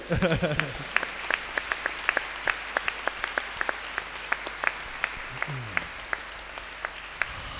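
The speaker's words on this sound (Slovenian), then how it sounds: "Clap the hand." A church congregation claps hands in a steady, rhythmic beat, many sharp claps in unison filling the room, with some voices mixed in near the start and middle.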